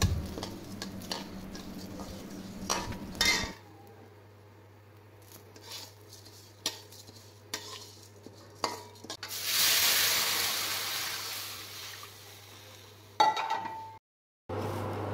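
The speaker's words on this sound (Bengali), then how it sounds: "2 মুঠ মুগ ডাল করে দেব, হালকা ভেজে দেব।" Mung dal lightly dry-frying in a pan at home, with close scraping and stirring clatter, a steady low hum under it, and a stretch of brighter hissing sizzle toward the end.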